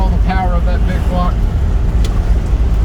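A 1969 Chevrolet Chevelle SS396 with a big-block engine and TH400 automatic transmission drives on the road, its steady, loud, low engine rumble running throughout, with a brief voice near the start.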